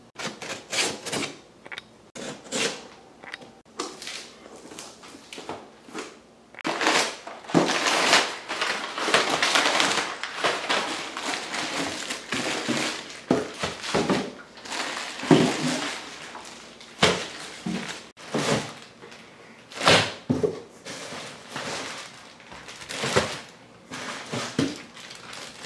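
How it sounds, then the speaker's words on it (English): Package of epoxy resin being opened by hand, dense close clatter of cardboard tearing, plastic crinkling and bottles knocking, steady busy handling noise throughout with no talk. "Now that we've unpackaged the epoxy"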